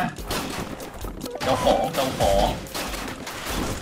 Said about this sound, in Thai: ทำไมมันระเบิดได้ขนาดนี้ระเบิดให้หมด